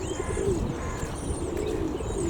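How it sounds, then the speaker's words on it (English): A big flock of pigeons on the ground cooing, with soft overlapping coos and murmurs close by, continuous over a low outdoor rumble. "big flock of pigeons here on the ground."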